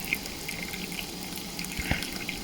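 Ice cold water runs steadily into a primary fermenter already holding ice and hop-boiled gluten-free beer wort, a continuous close, moderately quiet pouring wash with a faint splash near the end.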